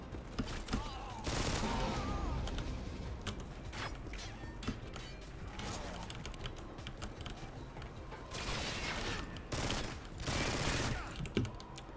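Gunfire in a modded Modern Warfare 2 gun game with a WA2000 rifle: loud bursts of shots and mechanical clatter in several clusters, separated by quieter stretches of game noise.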